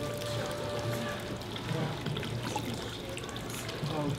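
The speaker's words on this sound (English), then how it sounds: "Washing our hands." Water runs and trickles steadily at a Shinto shrine hand-washing basin at Nishiki Market in Kyoto, close by and continuous.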